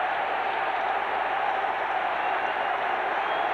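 A home crowd at an Arsenal FA Cup football match against Liverpool cheers in a steady, broad roar that fills the stadium with no break.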